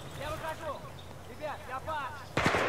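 A grenade goes off in Battlefield 3, a sudden loud blast near the end after a stretch of someone talking over quiet battlefield ambience.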